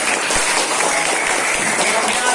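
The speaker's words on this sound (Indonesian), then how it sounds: "Tepuk tangan untuk kita semua." Applause from a primary-school class of third and fourth graders, a steady dense clatter of many small hands clapping together, fairly close and loud, filling the whole moment without pause.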